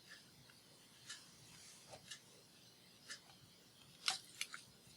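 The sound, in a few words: scissors cutting craft material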